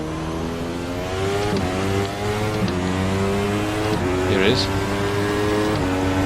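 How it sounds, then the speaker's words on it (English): A race car engine in a sim racing video game drones loudly with a strong, buzzing harmonic note. The pitch climbs and drops through gear shifts and revs while someone talks over it. "I guess the engine is a bit too loud."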